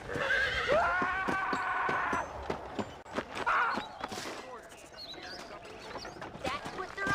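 A horse in Red Dead Redemption, played in VR, whinnies loudly at the start, then its hooves clip-clop in a steady rhythm, with a second shorter neigh midway and background voices talking.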